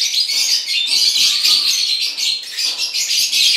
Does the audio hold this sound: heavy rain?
no